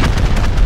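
A rocket blast in Rust, caught mid-explosion as a dense, very loud roaring rumble with crackling bursts, short and close.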